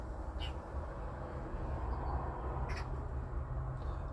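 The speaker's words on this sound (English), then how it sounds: "That sounds like a magpie." A magpie gives two short, harsh calls a couple of seconds apart, moderately distant, over a constant low rumble.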